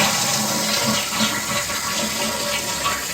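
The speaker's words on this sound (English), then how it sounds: "Let's go ahead and use a handle and see how it works." A Kohler toilet fitted with a Fluidmaster universal repair kit flushes, giving a loud, close, continuous rush of draining and swirling water throughout.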